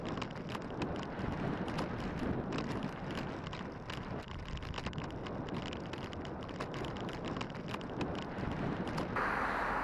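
Headwind buffeting a microphone while cycling across Scotland, a steady rough rumble of wind noise with gusty fluttering, close and constant, no talk.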